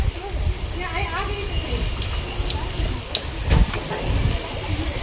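Heavy monsoon rain pours down in Rajkot, a dense, steady hiss of falling water with voices talking now and then over the downpour.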